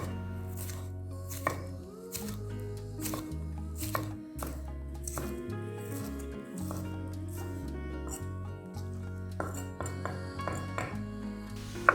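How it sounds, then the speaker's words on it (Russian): Knife chopping a sweet bell pepper into thin strips on a cutting board, a steady series of close, crisp cuts over soft background music. "Нарезаем сначала тоненькими полосочками."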